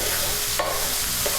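A Pampered Chef mix and chop tool stirs and breaks up meat in an electric frying pan set to 375, a steady close sizzle with soft scraping strokes.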